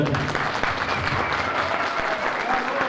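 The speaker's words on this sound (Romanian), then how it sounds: "Trebuie să-i aplaudați încă o dată." An audience at a charity Christmas fair at Casin Monastery applauds children who performed at a regional folklore and traditions contest, giving steady, dense clapping throughout with faint voices mixed in.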